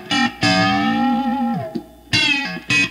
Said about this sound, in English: that bell-like, those weird bell tones